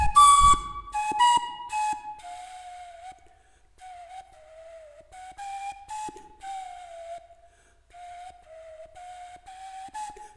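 A 3D-printed recorder (Blockflöte) plays a slow melody of clear, sustained whistle-like notes, a few brief quick notes at the start, then held tones with short breaks, fairly close and steady in loudness.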